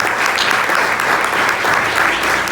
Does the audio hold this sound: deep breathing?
no